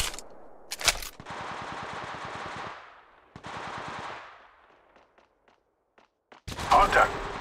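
Bursts of automatic gunfire from Apex Legends on mobile, with two sustained rapid volleys separated by a pause, then scattered faint shots and a louder burst at the end.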